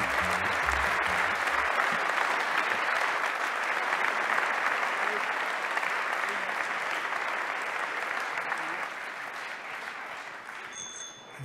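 An audience at an awards ceremony applauds Saint-Lunaire with sustained, dense clapping, loud and steady, that fades gradually toward the end.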